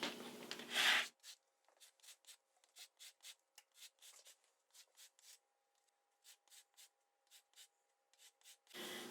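A lemon is zested with a hand zester in a home kitchen, giving a long series of short, close scraping strokes in a steady rhythm, framed by louder handling noise at the start and end.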